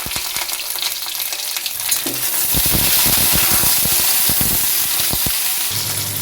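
Halved flat beans (shim) fry in hot oil in a pan, a loud bright sizzle that swells after a quieter start, broken by scraping stirring clicks, with no voices.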